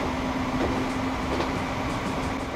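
A steady electric hum and whine of an electric train in Transport Fever running at about 90 km/h, with a faint rumble and a brief tonal pitch that fades.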